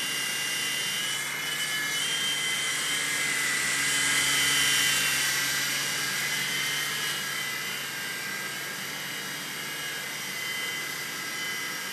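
A Blade mCX RC model helicopter flies indoors close by, its small rotor and motor giving a continuous high-pitched whine that swells and fades a little as it hovers and moves.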